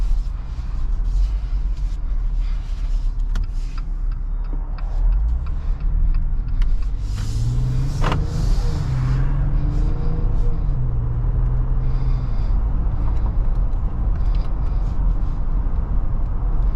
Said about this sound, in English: driving this 2022 Jeep Wrangler drives nice and smooth, very comfortable, and there is barely any road noise